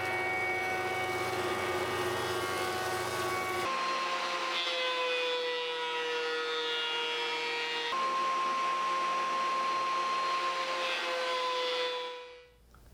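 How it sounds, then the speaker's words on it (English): A jointer and then a planer mill wooden table legs, giving a loud, steady machine whine with tonal hum. The pitch shifts as each pass starts and stops, then the machine spins down at the end. "I'm gonna go over to the joiner, run through that, and then run through the planer."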